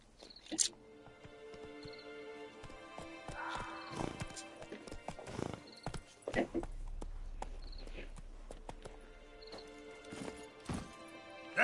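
Hooves of the horse Roach in the video game The Witcher 3, a quick clip-clop rhythm at a walk or gallop, with a whinny and scattered game effects over a low rumble.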